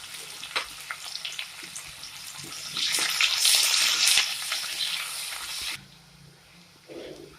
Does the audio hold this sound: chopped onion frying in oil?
yes